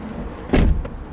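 A car door shuts with a single solid thump about midway through, loud and close, against a quiet low background.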